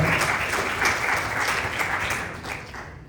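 Church congregation claps during a Bible study service, a dense, loud, continuous roar of many hands with a faint rhythmic pulse, heard close and without talk.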